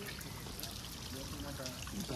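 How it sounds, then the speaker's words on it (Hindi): Mountain water trickles and pours near a cave shrine in hilly terrain, a steady continuous liquid wash with no clear drops, heard fairly faintly and unbroken. "देखिए पानी कहाँ से आ रहा है,"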